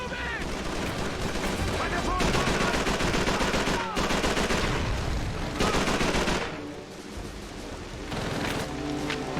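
Dense, continuous gunfire and machine-gun bursts in a Call of Duty 3 battle, loud and sustained across the whole stretch, with a brief dip near the end before the shooting picks up again.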